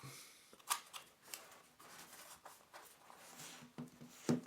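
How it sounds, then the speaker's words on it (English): A blade slices through the sticky tape seal on the box of a RENPHO Healthbuddy 2 Lite smart scale, producing quiet, intermittent scratchy cuts and rustles close to the microphone. "cutting apart the sticky seal"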